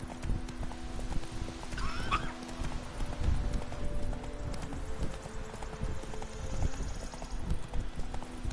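Steady clip-clop of Geralt's horse Roach trotting in The Witcher 3 video game, a continuous hoof rhythm with a brief whinny near the start, over low ambient game sound.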